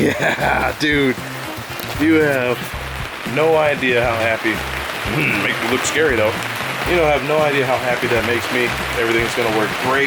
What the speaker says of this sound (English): Sorry about the rain noise.